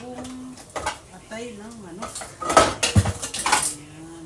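A cooking pot of chicken liver adobo is covered with its lid, giving a few clattering metallic clinks and knocks. The clinks come under soft talk and a bird's cooing in the background.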